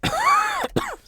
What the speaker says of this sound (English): coughing a little bit